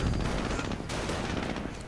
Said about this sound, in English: Jeep moving in, coming under fire.